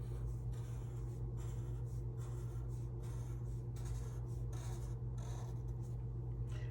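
A pen scratches steadily across paper, drawing one long straight line for a simple sea-turtle and coral-reef sketch. The dry, continuous stroke sounds close and quiet, over a low steady room hum, with no talking.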